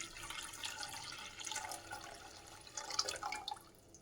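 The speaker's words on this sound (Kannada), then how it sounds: "ನಾನು ಒಂದು ಪಾತ್ರೆಗೆ ನೀರು ಹಾಕ್ಕೊಳ್ತಿದ್ದೀನಿ" Water is poured into a cooking pot on a kitchen counter beside a lit gas stove, a soft, steady splashing stream with faint drips, close and quiet throughout with no talking.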